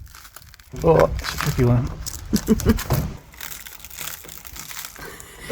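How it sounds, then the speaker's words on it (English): Plastic trim being pulled and ripped from the rear interior of a Mini R53, with loud crinkling, crunching bursts coming in uneven pulls close by, under people talking. "ripping the plastic off"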